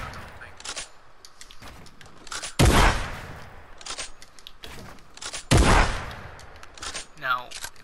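Fortnite gunfire from a combat shotgun, with two loud, heavy blasts several seconds apart and smaller pops and clicks between them, heard close and dominant in the game mix.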